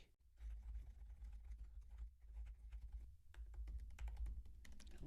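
Typing on a computer keyboard while writing an office-hours description in Google Meet, a steady run of close, fast key clicks with brief pauses, over a low background hum.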